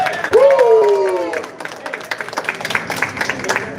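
A cheerful shout rises first, and then a small crowd at a live event in a venue gives a short burst of clapping and cheers. The sound is close and fairly loud, and a voice is heard near the start.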